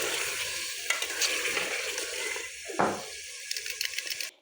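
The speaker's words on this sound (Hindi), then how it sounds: "ये देखिए मैंने चिकन डाल दिया है, अब मैं इसको अच्छी तरह भूनूँगी।" Chicken fries in a pan while a spoon scrapes and stirs it, giving a close, busy sizzle with irregular scraping strokes and clinks and no speech.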